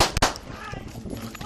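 A suspect firing a gun at police officers, two sharp loud cracks in quick succession at the very start, followed by a noisy scuffling tail with faint voices mixed in.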